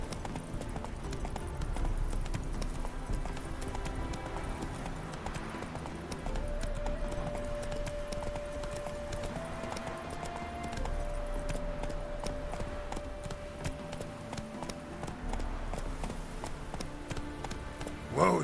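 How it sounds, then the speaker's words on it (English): A horse gallops in the video game The Witcher 3, its hooves giving a fast, steady clip-clop throughout, with jangling tack and a faint sustained musical tone underneath. "Whoa there, Roach"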